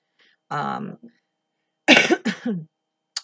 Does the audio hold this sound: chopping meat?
no